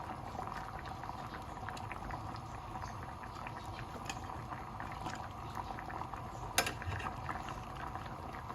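Pork pata soup simmers in a covered pot over low heat, a steady bubbling and gentle rolling boil throughout with one brief louder knock.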